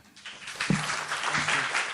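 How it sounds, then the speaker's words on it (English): Brief applause from a panel discussion audience, moderate clapping heard at some distance, with a faint voice briefly underneath. "Gordon and Dr. Keyes applaud Norene."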